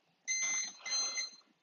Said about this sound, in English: It beeps twice.